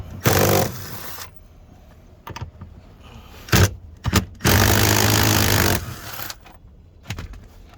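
A power gun takes out the seat bolts in a Lexus SC400. Close, loud bursts of motor whir come in several runs, a short one first and then a longer steady spin, with clicks and handling noise between and no speech.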